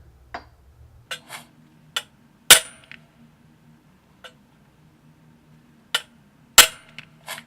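Metal exhaust headers on a Chevelle take a series of hard hammer blows, about nine sharp, irregularly spaced bangs, some loud and ringing, over near silence.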